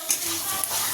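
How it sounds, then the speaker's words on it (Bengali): Potato and pointed gourd sautéed in a pan, a brief burst of bright hissing sizzle with a quick spatula scrape. "এবার এটাকেও একটুখানি কষিয়ে নেবো ভালো করে"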